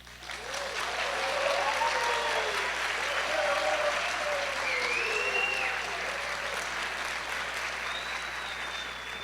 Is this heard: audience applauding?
yes